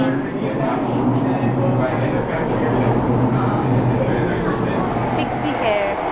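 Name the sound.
train arriving at a station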